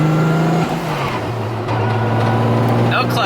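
A Toyota Supra's engine revs hard through a no-clutch shift, with a loud droning tone that dips briefly and then climbs again, close by and continuous, with voices faintly over it.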